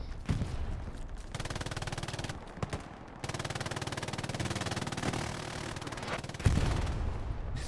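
Sustained automatic gunfire and rapid bursts from a trench-warfare video game battle, dense and continuous with brief lulls, a heavy close shot near the end.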